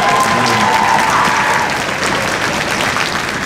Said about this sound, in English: then we could give them applause